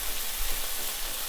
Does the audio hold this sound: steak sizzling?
yes